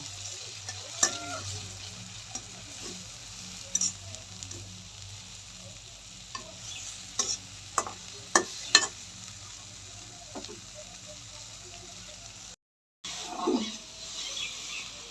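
Prawns fry in oil for a malai curry, a soft, steady sizzle broken by a few sharp spatula knocks and scrapes, with a short silent gap near the end.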